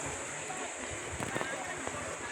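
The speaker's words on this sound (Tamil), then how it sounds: "பாருங்கள் தண்ணி எப்படி பெய்துக்கிட்டு" Water pours in a steady, continuous hiss with a few splashy bursts, while a voice talks over it throughout.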